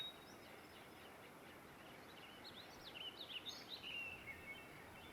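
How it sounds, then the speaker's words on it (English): Faint springtime birdsong, a few thin high chirps and short warbles, drifts over a steady soft background hiss in the second half, distant and quiet with no talking. "Listen to those birds."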